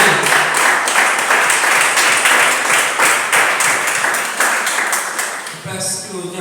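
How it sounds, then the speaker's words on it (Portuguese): A church congregation applauds, a dense sustained wash of many hands clapping that fills the room before fading at the end into a voice. "Vamos aplaudir a palavra do Senhor."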